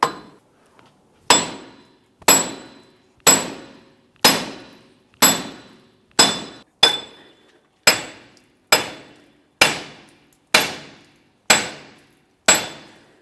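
A hammer strikes a Ford Explorer steering knuckle to break the ball joint free, about a dozen sharp metallic blows landing at a steady, roughly one-per-second rhythm, loud and close, each ringing out briefly before the next.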